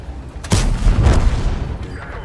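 An AMX 30 tank's main cannon firing in a video game lands as one heavy, booming blast with a long, rumbling low-end tail that fades over about two seconds.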